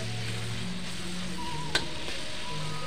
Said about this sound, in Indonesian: Langsung kita masukkan di minyak panas ya, untuk si bumbu-bumbu sambal yang udah kita iris-iris tadi. Kita goreng, tumis sampai layu